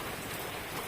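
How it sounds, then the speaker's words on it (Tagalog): Heavy rain from Typhoon Henry pours down steadily, a dense, loud hiss of drops filling the whole moment without any break. "sobrang maulan ngayon, malakas ang ulan"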